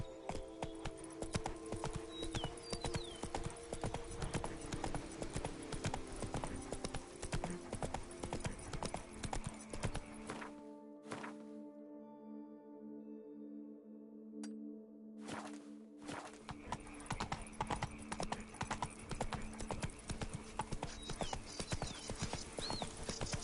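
Roach, the horse in The Witcher 3, gallops with a brisk, even clip-clop of hooves, loud and near. The hoofbeats drop out for a few seconds midway, leaving a quiet lull, then resume at the same pace.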